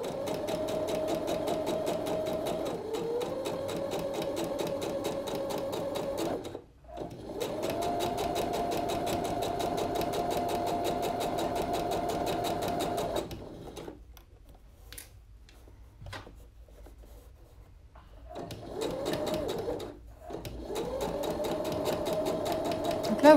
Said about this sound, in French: Là, vous voyez, je prends mon temps pour coudre.